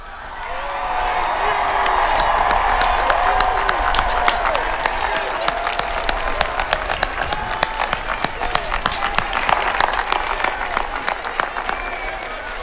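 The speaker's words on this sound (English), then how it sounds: "give your families and friends a great Wildcat ovation" The graduating class at the UNH 2018 commencement gives its families and friends a long, loud, continuous ovation, with dense clapping from a large crowd and scattered cheers throughout.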